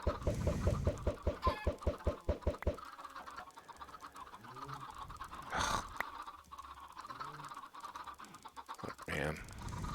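Chickens in a Minecraft hardcore world, heard as a quick run of loud clucks at first, then scattered softer clucks and bird calls over a quiet background.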